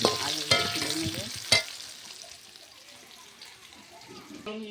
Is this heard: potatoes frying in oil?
yes